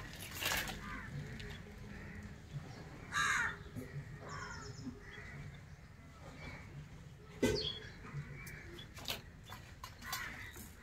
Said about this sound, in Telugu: ఆ పిట్టలు రెండు ఈ పైన గూడు కట్టుకుంటున్నాయి